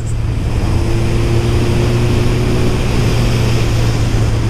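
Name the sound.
Suzuki GSX-R 1000 motorcycle engine while riding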